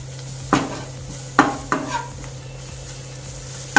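Gram flour (besan) being stirred and roasted in a pan: a few sharp spoon scrapes and clinks against the metal pan over a faint, steady sizzle, near and alone without talk.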